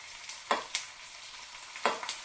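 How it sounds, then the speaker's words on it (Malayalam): Garlic and mustard seeds tempering in hot oil in a pan, giving a steady soft crackle with sharper pops and spits now and then, close and fairly quiet, with no voices. "ആ വെളുത്തുള്ളിയുടെ പച്ചപ്പ് മാറാൻ വേണ്ടിയാണ് ഈ വറക്കകത്തിട്ട് കടുക് താളിക്കുന്നതിനകത്തിട്ട് ചെയ്യുന്നത്."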